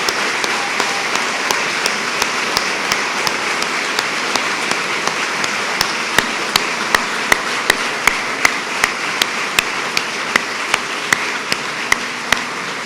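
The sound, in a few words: audience applause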